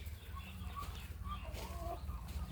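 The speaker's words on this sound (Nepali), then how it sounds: "यो लगभग यसमा 100 वटा कुखुरा पनि छन् कि छैनन्।" Chickens cluck and murmur inside a poultry farm coop holding around a hundred birds. Soft, overlapping clucks sit over a low, constant background hum at a moderate distance.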